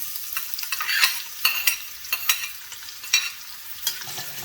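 Spices and three chopped medium onions sizzle in a hot frying pan for a Durban-style chicken dish, a steady close hiss broken by louder bursts as the mixture is stirred.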